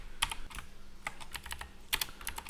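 Computer keyboard typing nearby, with scattered soft key taps broken by a couple of sharper, heavier strokes at an uneven pace, and no speech.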